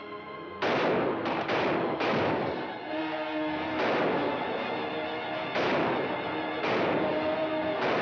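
A gunfight in a 1955 western film, with loud gunshots booming out one after another at irregular intervals, heavy and echoing, filling the whole stretch with no talking.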